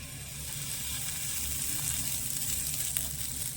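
Steady, close sizzling of snack batter frying in a hot, oil-free pan, a continuous bright crackle that holds at an even level throughout.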